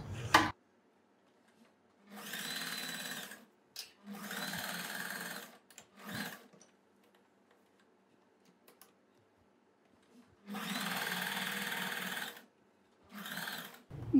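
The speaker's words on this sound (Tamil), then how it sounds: "இப்போ நம்ம அடுத்த இந்த ஷோல்டரையும் அதே மாதிரி தான் ரெண்டு ஸ்டிச் போட்டு முடிச்சுக்கலாம்" A sewing machine stitches a churidar shoulder seam in short bursts of rapid, close mechanical whirring, about five runs separated by quiet pauses and a few soft clicks.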